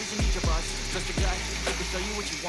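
Pumpkin pieces tipped into hot oil with spiced masala in a pan, giving loud bursts of sizzling frying with a few dull thumps as the chunks land, then a steady crackle.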